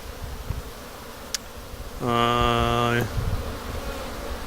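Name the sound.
honeybees flying busily around the front of a hive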